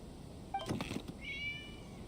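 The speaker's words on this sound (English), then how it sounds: "It was just a cat" A cat meowing in the video game Genshin Impact, one soft meow followed by a longer, higher meow, faint against quiet background ambience.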